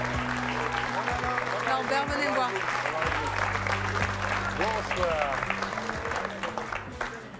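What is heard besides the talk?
studio audience applauding inventor Norbert and his dog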